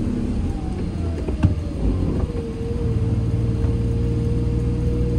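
Rebuilt Detroit Diesel 6-71 engine running on a test drive, a steady low rumble heard from inside the vehicle with a faint whine rising and settling, plus a couple of small knocks, no talk.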